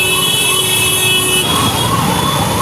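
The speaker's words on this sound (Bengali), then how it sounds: "অ্যাম্বুলেন্সটা আটকে গেছে, কেউ সাইড দিচ্ছে না" Ambulance siren stuck in heavy traffic on BT Road in Kolkata, heard from a moving motorbike: a steady wailing tone carries through the whole stretch over dense road and engine noise, fairly close and loud, with no talk.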